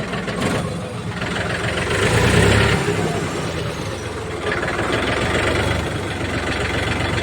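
A Mahindra B 295 diesel tractor engine idles close by with a steady, throbbing rumble that swells briefly in the middle, running alone without voices.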